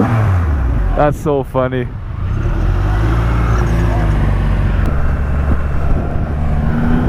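The 2500cc engine of a Triumph Rocket 3 motorcycle rumbles loudly and revs as the rider opens the throttle, with a brief spoken remark near the start over the steady engine roar.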